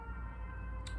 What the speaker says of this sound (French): vous allez entendre l'ambulance qui passe